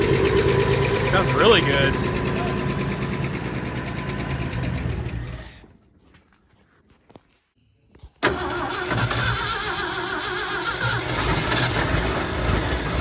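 A Ford F-100 pickup engine with a newly installed carburetor runs loudly, cuts out into near silence for a couple of seconds, then fires back up and idles roughly. A voice speaks over the running engine.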